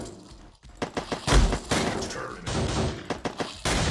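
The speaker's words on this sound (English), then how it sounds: "there's a secret minigun and it makes you unstoppable" A secret minigun fires in the video game CS:GO in loud, close bursts of rapid gunfire, broken by short gaps between volleys.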